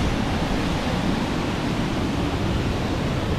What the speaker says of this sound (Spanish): Miren esa caída de agua, lo que es.